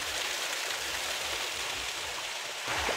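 Water tumbles down a small waterfall in the woods at Dhangi Kusum, Belpahari, giving a constant near splashing wash with a slight swell at the end.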